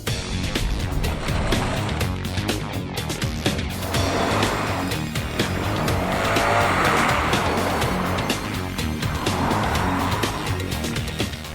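A second-generation Subaru STi is driven hard, with loud engine roar, rising revs and tire squeal as the car accelerates and passes, a constant energetic rush of motor noise.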